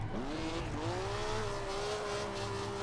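A Ferrari Testarossa slides sideways in a drifting mod for a racing game. Its tires squeal in a long, steady wail over the engine's continuous drone, close and loud, with no talking.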